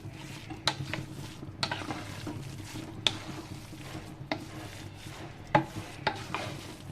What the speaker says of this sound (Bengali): আবারও আমি নেড়ে ছেড়ে দিব